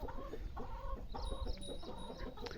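Chickens cluck on a goat and poultry farm under a shaded shed in summer. Repeated soft clucks come from hens close by over a steady low background hum, with no talk.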